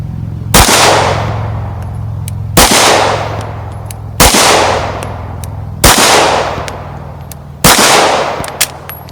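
Five loud, sharp shots from a CZ P10c 9mm pistol firing Federal 115 grain ammunition at an outdoor range, spaced about two seconds apart, each with a ringing decay and no talking.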